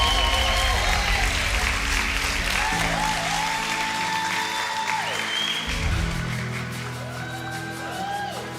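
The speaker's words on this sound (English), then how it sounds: "allow a resounding level of applause to Sishan Naidu" Applause at the 2021 Lesedi Awards broadcast ceremony as an honoree is recognised, with sustained crowd clapping and a few whoops, loud at first and then easing off, while music plays along.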